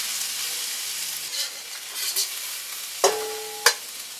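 Rice frying in a pan, started in the pan's leftover fat, gives a steady sizzle. A couple of sharp clinks from a utensil against the pan come near the end.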